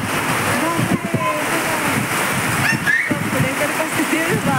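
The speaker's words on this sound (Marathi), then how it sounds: "हे बघा पाटणमध्ये मुसळधार पाऊस चालू आहे." Heavy monsoon downpour in Patan, a dense, loud, continuous rush of falling rain with water splashing, as voices talk over it.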